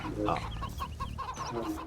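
Chickens in the Age of Empires video game cluck in a quick run of short, clipped calls, fairly close and distinct, over a busy background of other game sounds.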